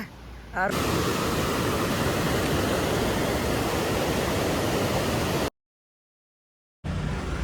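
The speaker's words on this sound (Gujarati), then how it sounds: "પહેલગામમાં એન્ટ્રન્સ થતા જો મિત્રો તમે નદીનું બાજુમાં જ નદી છે." River rushing beside the road on the approach into Pahalgam, a loud, steady broadband roar of flowing water that fills the scene, briefly cut off near the end before resuming.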